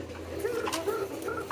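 Pigeons coo softly nearby in a loft, a couple of low throaty rolling calls over a quiet background.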